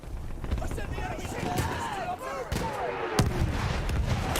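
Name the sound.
artillery fire in a video game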